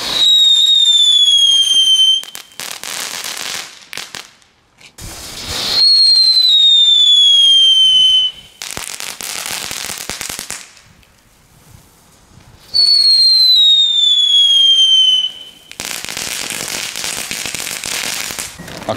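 Loud flat firecrackers fire in a repeating pattern of shrill descending whistles followed by long, dense bursts of crackling and popping, three cycles in a row close by.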